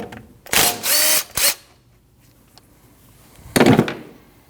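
A power tool spins off a 12mm brake caliper bolt on a Nissan NV2500 van: two close, loud whirring bursts, then a pause and one more short burst, with no talking.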